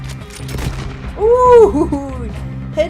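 Gunfire in Red Dead Online, a Western game, comes as a few sharp shots early on and then a loud burst of firing. Whistling game effects and voices sound over the shots.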